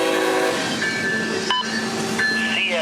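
A CSX freight train on the S-Line, with a loud rumble, sustained tonal horn blasts and a sharp metallic clank midway, heard close.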